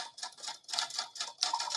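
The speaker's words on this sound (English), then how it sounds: "That's the typing we heard" Rapid keyboard typing in quick irregular bursts of clicky keystrokes, fairly close and alone, with a few brief pauses between runs.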